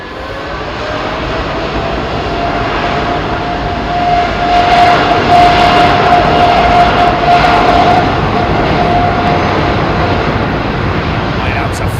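A heavy airliner jet takes off at London Heathrow Airport, its broad roar swelling louder midway and then holding strong, with voices talking over it.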